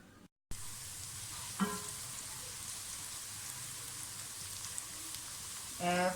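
Onions frying in a pan for Lahori murgh chanay masala give a steady, rain-like sizzle throughout, with a couple of brief louder crackles or stirs, and no voices.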